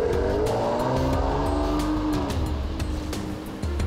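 A Mercedes C43 AMG sports car on a lap-timing track revs loudly close by, its engine note rising and falling with sharp exhaust crackles and pops throughout, no talking.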